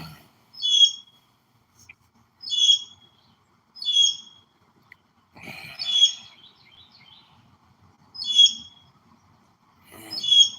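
A blue jay calls loudly outdoors, about six sharp, evenly spaced cries a couple of seconds apart, close and clear over near silence.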